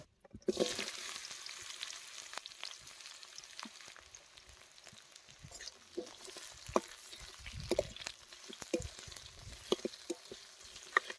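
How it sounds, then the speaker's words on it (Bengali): Sliced onions, green chillies and a few garlic cloves fry in oil in a pan with whole cloves, dried chilli and bay leaf, giving a steady soft sizzle with occasional sharper pops and stirring scrapes. "হালকা করে পেঁয়াজগুলোকে লাল লাল করে ভেজে নেবো"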